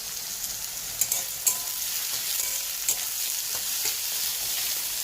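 Food lightly frying in a pan, a steady high hiss of sizzling oil with occasional stirring clicks and taps, close and continuous without any voices.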